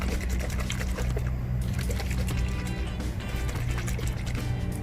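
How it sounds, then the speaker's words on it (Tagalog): Bleach and water being shaken together in a container to mix them for bleach tie-dyeing shirts, giving a continuous close sloshing and rattling wash of liquid. "So, alugin natin para mix yung ating bleach saka yung ating water."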